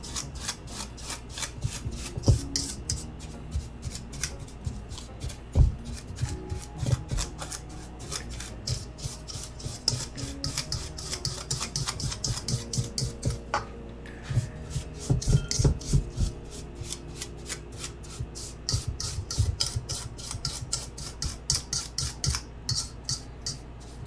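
Dried shiitake mushroom pieces being stirred and tossed with sugar in a bowl, a dense run of close scraping, rasping rubs that go on steadily with brief pauses.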